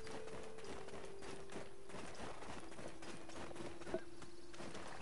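In the Black Desert Online video game, horse hooves clip-clop in a steady walking rhythm, faint and continuous beneath a constant hum of game ambience and background music.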